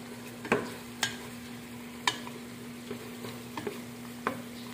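Chicken and liver for Mongolian barbecue simmer and sizzle softly in thickening sauce, with a low constant bubble under a series of sharp scraping knocks as the pan is stirred every second or so.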